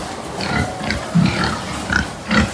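Fattening pigs grunt in their pen on a farm, giving close, loud, repeated low grunts and snorts in an irregular rhythm with no talk.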